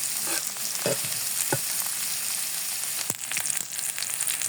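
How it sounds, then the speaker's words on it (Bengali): Chopped onion and green chilies fry in a pan for chicken noodles, giving a steady close sizzle with a few brief scrapes of stirring on top and no voices. "এখন দিয়ে দেবো পেঁয়াজ মরিচ কুচি, 1 টেবিল চামচ পেঁয়াজ কুচি আর 4টা মরিচ।"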